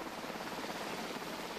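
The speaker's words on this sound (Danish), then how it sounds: "går helikopteren i gang med at samle søfolk op fra havet" Rescue helicopter hovering low over the sea while lifting sailors from the water, its rotor and engine roar a loud, steady, continuous wash with no voices.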